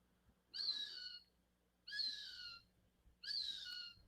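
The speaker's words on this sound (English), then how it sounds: "Can you hear the hawk?" A raptor calls outdoors: three drawn-out, descending screeches evenly spaced about a second and a half apart, clear and moderately distant over a faint low hum, with no talking.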